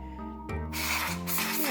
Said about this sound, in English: my air duster can here, so we'll give it a bit of a spray out